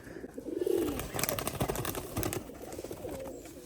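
Pigeons coo in low, rounded, repeated calls at close range, with some brief sharper sounds in between and a steady background hum of the surroundings.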